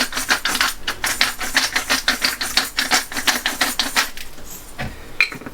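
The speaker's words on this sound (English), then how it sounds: "A good grind of black pepper." Black pepper is ground from a mill in a kitchen while a chili roll filling is being prepared, giving a rapid run of dry, rhythmic crunching clicks for about four seconds before it trails off into quiet rustling.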